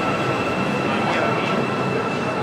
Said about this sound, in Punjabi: ਉਹ ਮੈਟਰੋ ਆ ਗਈ।